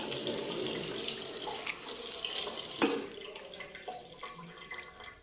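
Tap water runs steadily into a sink for rinsing off a purple clay face mask, a close splashing flow that eases and thins toward the end with a few scattered drips.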